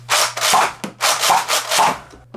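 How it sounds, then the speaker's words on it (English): A Nerf Rival Artemis XVII-3000 blaster slam fires in quick succession, about five loud close bursts of rattling pump action and firing in an uneven rhythm, with no talking. "Now, does it have slam fire? Hold down the trigger."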